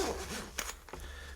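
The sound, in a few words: zipper of a case being zipped up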